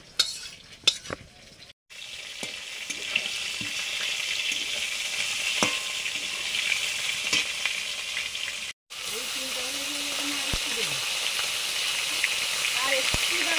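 Eggplant and potato fry in a pan with a constant close sizzle and occasional scraping stirs, broken by two brief cut-outs and a faint voice near the end.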